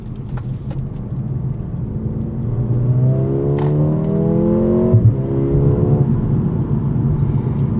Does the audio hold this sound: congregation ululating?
no